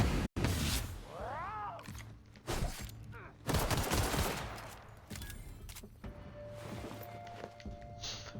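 Combat in The Outer Worlds video game brings bursts of gunfire mixed with sharp impacts and crashes, loud in spurts then easing, with a rising whine and a lingering tone near the end.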